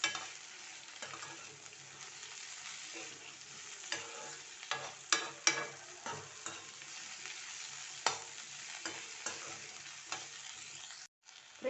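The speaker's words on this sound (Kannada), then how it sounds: "ಒಂದು 6 ನಿಮಿಷ ನಾವು ಫ್ರೈ ಮಾಡ್ಕೊಳ್ಳೋಣ ಅಷ್ಟೇ" Okra frying and being stirred in a pan for sambar, a steady soft sizzle broken by scraping stirs and clinks of a spoon, close and fairly quiet with no talking.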